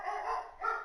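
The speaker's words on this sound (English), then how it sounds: "I'm sorry about my dog in the background" A pet dog barks in the background of a room, two short muffled woofs in quick succession, faint and distant.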